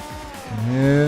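A car engine at speed in sixth gear, its steady hum rising into a louder, strained tone, close and continuous.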